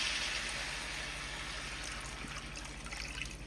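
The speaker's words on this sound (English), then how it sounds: "Now I'm gonna add me some water." Water pours steadily into a pan of jerk-seasoned ribs, a continuous soft splashing trickle heard alone at low level.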